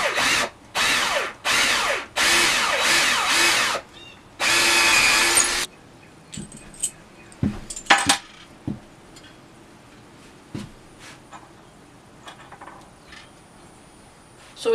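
A power drill bores into a wooden double stud in five loud bursts, close up, followed by quieter clicks and handling noises.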